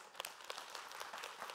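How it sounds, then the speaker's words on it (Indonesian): Studio audience applause during an Islamic religious TV talk show, a steady patter of many hands clapping at moderate level, continuous throughout the short stretch with no voices. "Boleh tepuk tangan dulu"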